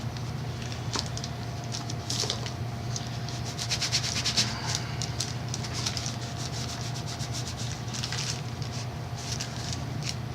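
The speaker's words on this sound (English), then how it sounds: "Heating the whole area and then tilting it up so I can really press with the heel of the iron, working out any air bubbles" A household iron is pressed hard and rubbed over packraft fabric to heat-seal the seams, a steady dry scraping and rubbing that continues loud and close without pause.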